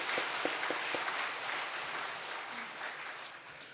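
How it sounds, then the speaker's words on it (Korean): A church congregation applauding during a Sunday worship service, a broad wash of many hands clapping at a steady level that tapers slightly near the end. "우리 그분들께 감사의 박수를 한번 전하겠습니다."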